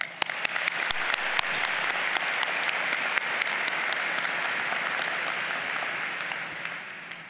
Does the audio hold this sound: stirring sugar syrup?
no